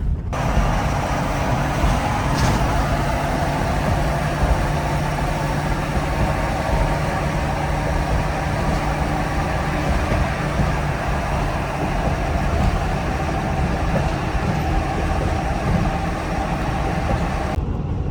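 A loaded truck driving at night near St. Louis toward Illinois, its engine and road noise forming a loud, steady, continuous rumble with a broad hiss of tyres and wind, unbroken throughout and with no talk.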